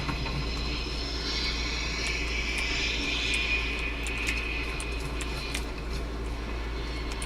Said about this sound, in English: It sounds like a jet's up there.